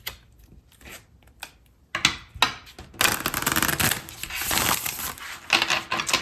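Tarot cards are shuffled close up in a series of papery riffles and soft rustles, quiet at first and then a louder, sustained burst of flicking and shuffling near the end.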